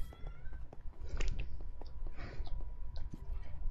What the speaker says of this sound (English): My cat's getting her squawkies on.